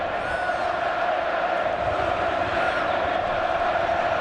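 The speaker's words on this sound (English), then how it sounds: "Simeone applauding the fans, who in turn are cheering him" Football crowd at the Vicente Calderón stadium during an Atlético de Madrid versus Real Zaragoza match, a loud, sustained roar of cheering fans filling the whole stretch without a break.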